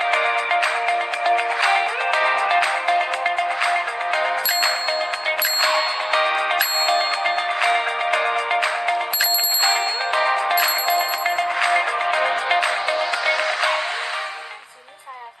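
A simple homemade electromagnetic electric bell rings continuously, its striker hammering the gong in a rapid metallic clatter, loud and close with bright ringing tones, before fading out at the end.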